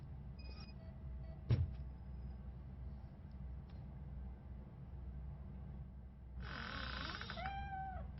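A cat meows in the video game Robocop: Rogue City, one short, faint mew rising near the end over a low rumbling background, with a brief click earlier.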